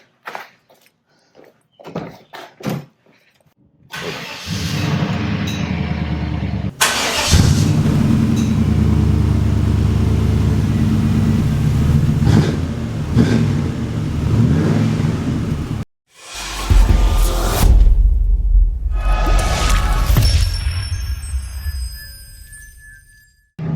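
A cold 1995 Chevy Impala SS V8 fitted with headers cranks and fires after a few quiet clicks, then idles loud and rumbling, cuts out briefly, and roars back to life with a deep throaty idle.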